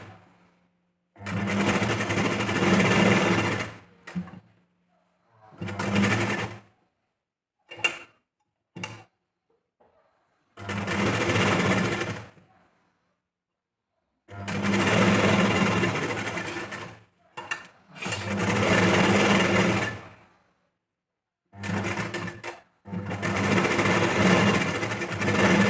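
A sewing machine stitches the fabric of a back-open, princess-cut blouse in close, loud bursts of rapid ticking, some several seconds long and others brief, with silent pauses in between.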